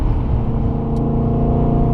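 A BMW M3 with a 420-horsepower V8 revving to 8,200 rpm, driven on a race circuit, gives a loud, steady, close engine drone from cabin or onboard position, holding a constant pitch with no talk.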